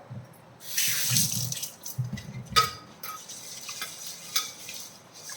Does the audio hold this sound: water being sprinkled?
yes